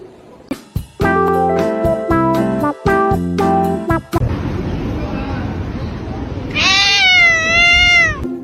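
A cat gives a long wavering meow near the end, loud and close, after a stretch of choppy musical tones and a burst of noisy rumble.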